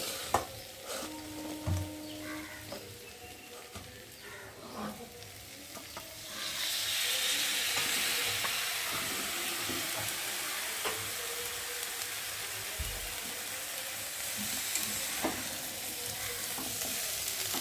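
Vegetables frying with spices in a pan, a steady sizzle and hiss that swells louder partway through and holds, with occasional clinks and stirring scrapes, no talking.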